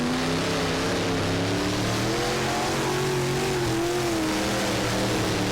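Race car engines roar together at the green flag at Thunder Hollow Speedway, a loud sustained rumble with rising revs, the pack accelerating steadily without a break.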